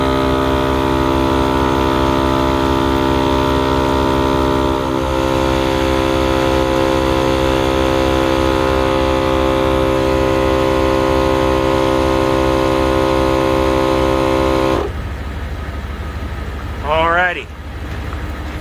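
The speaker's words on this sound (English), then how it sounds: "Start the Jeep, start the compressor." A Jeep engine idles as Smittybilt and Masterflow 4x4 air compressors run together in a loud, steady droning buzz with a strong rhythmic hum. The sound cuts off near the end, leaving a quieter engine and a brief squeak.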